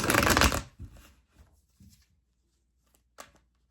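Tarot cards being shuffled up close: a loud, brief riffle at the start, then a few soft taps and slides as the deck settles, with a final light card tap near the end.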